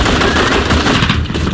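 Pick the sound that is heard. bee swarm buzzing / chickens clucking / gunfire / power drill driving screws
gunfire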